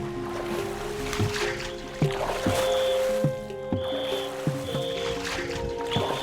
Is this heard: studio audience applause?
no